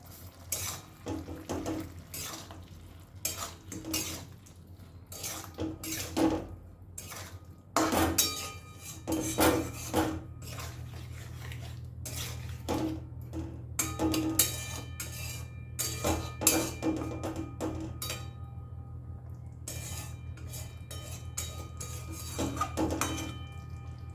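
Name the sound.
mixing pumpkin curry with sugar in a pan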